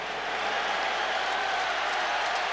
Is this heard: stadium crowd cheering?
yes